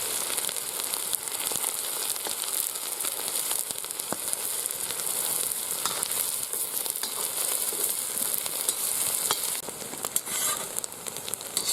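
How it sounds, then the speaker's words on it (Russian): Onion fries in a kazan with a steady bright sizzle, close and alone, with occasional scrapes and clinks as it is stirred. "Слегка обжариваем лук."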